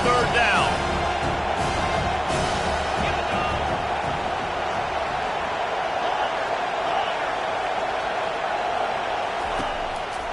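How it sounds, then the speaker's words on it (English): Football stadium crowd at a college game roaring for the defense on third down, a dense, sustained wall of cheering and whooping that stays loud throughout, with a commentator's voice over it. "Decibels rising as the crowd gets behind this defense on third down."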